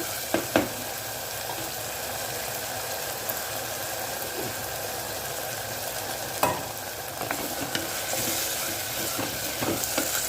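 Spring onion and peanuts frying in a pan for a brinjal curry, a steady close sizzle broken by occasional scrapes and clinks of stirring, with no voices.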